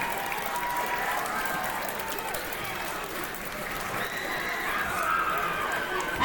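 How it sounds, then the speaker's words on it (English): A graduating middle school class at a promotion ceremony applauds steadily as a large crowd, a dense sustained clatter of clapping over about six seconds with a slight dip midway. "Give yourselves a round of applause."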